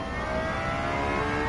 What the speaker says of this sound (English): They put in that really cool, super, like 100 horsepower per cylinder, Toyota 3-cylinder, and turbocharged.